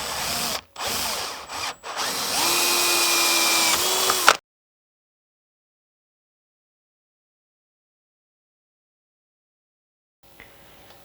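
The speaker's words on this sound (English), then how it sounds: "Just going to put in the pilot hole and gently drill it out." A power drill fitted with a hole saw whirs loudly for a few seconds, stopping and restarting briefly before grinding steadily, then cuts off into silence.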